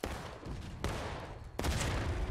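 Musket volleys from a line of infantry in the Civil War video game War of Rights at School House Ridge crack out in three ragged bursts, loud and dense, each rolling over the last.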